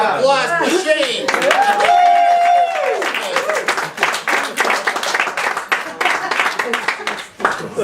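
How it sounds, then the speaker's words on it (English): Applause at a family no-talent show, with clapping rising under talking voices and a sung or whooped tone, continuing unevenly throughout. "Let's have a nice round of applause for Shane."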